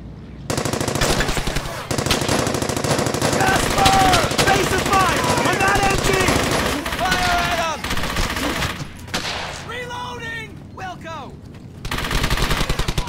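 Machine-gun fire and rifle shots from the World War II shooter Brothers in Arms: Hell's Highway, loud, sustained rattling bursts with brief gaps, layered with shouted voices and battle noise throughout.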